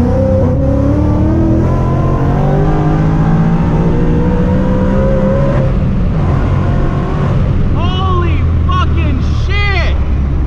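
A sleeper Ford Mustang accelerates hard on a highway. The engine roars loud and close, its pitch climbing steadily, and brief voices come through near the end.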